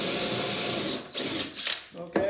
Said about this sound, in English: for the countersink, I'm just going to go down about halfway